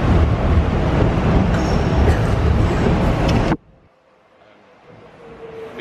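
Train at a station platform, a loud broadband rumble of the carriages running steadily for several seconds, then cutting off abruptly to quiet ambience with a faint rise toward the end.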